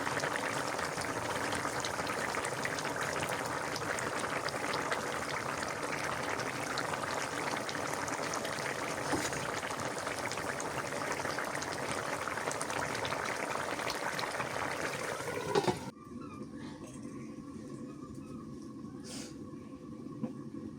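A pot of Mirka fish curry with cauliflower and potatoes simmers steadily, giving a continuous soft bubbling hiss that holds evenly for about sixteen seconds before dropping away to quiet room tone.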